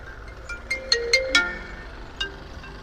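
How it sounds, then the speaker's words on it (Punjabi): A phone ringtone for an incoming call: a short run of bright electronic notes, several quick chimes and then one more, fairly clear over a quiet background. "ਲੈ ਕੁੜੀ ਦਾ ਫੋਨ ਆ ਗਿਆ"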